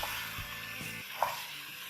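Water poured into a pan of frying turnips sets off a strong, steady sizzle, with a brief louder crackle partway through and no talking.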